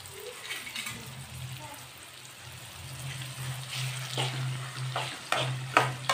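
Amla gooseberries frying in oil for homemade herbal hair oil, a steady soft sizzle with a low hum beneath and a few sharper crackles and pops toward the end.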